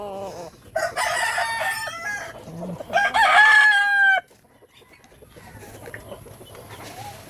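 A fighting rooster crows loudly close by, a long drawn-out call among other clucking fowl, followed by quieter farmyard background.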